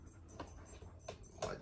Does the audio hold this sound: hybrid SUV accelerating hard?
no